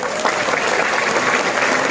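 An audience at a large Islamic religious gathering in Musi claps together in a dense, sustained burst of applause that stays loud and even for two seconds.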